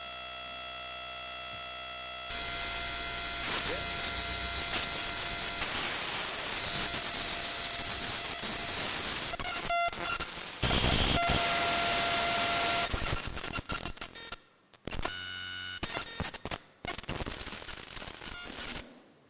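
Harsh digital noise from raw Debian Linux system data piped to an audio DAC bursts in: buzzing tones, static hiss and abrupt glitchy cutouts, shifting texture over twenty seconds of raw electronic sound.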